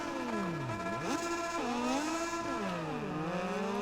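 Moto2 race bikes launching off the grid in MotoGP 19, a high engine wail rising and falling through quick gear shifts, steady and fairly loud with other bikes layered close behind.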